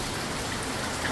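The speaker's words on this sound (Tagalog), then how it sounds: "ramdam lang yung ano, ulan tsaka yung hangin malakas" Rain falls during a typhoon as a steady, soft, even hiss with faint scattered drop ticks, quiet and continuous throughout with no voices.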